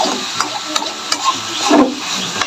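Chicken stirring and frying in a pan for Filipino tinola, a steady sizzle with soft scraping strokes and a few sharp utensil taps against the pan, close and continuous with no talking.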